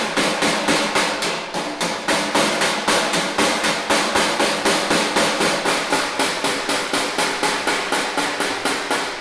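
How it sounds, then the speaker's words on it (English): Steady, rhythmic hammer blows on the edges of a 1969 Corvair door skin, dozens of sharp metallic strikes at a quick even pace, close and loud with no talk. "getting ready to do a little bit of hammer and doweling around the edges on it."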